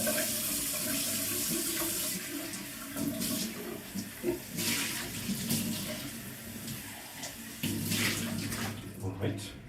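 A kitchen whisk rinsed under a running tap, a loud close rush of water that shifts and splashes as the whisk moves through the stream, with brief surges and a faint voice now and then.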